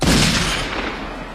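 A pawn shop owner fires a gun in a film scene: one loud, close blast with a rough, noisy boom that fades over about a second, and no voices.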